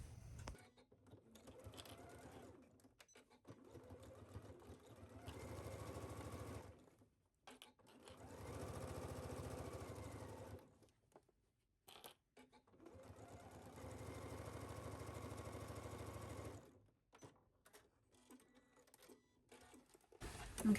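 Sewing machine stitching down a skirt pocket, running in several sustained bursts of steady whirring separated by brief pauses, close and clear with no voices.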